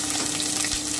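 Brinjal pieces frying in hot mustard oil in a pan, a steady, close crackling sizzle that runs throughout without pause.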